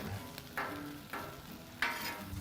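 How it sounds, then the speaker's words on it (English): Burger with onions sizzling on a hot griddle after a flip, a steady frying hiss broken by three scraping spatula strokes, close and alone. "I'm gonna put a little bit of oil over the onions and we're gonna give it a flip."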